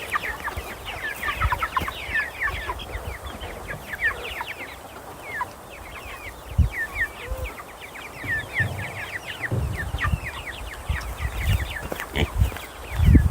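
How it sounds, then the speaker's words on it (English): A flock of 31-day-old meat chickens in an outdoor chicken tractor clucks and chirps continuously, many overlapping calls close by, with occasional low thumps and no talking. "I've got a herd of chickens that I have to get through here"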